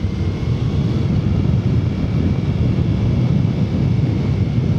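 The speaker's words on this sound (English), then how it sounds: "let's have a listen to the deacceleration coming down a hill" A Triumph America motorcycle fitted with a Booster Plug rolls downhill while slowing, giving a steady, low engine rumble under constant wind rush with no voices.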